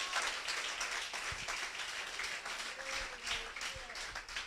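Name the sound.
church congregation applause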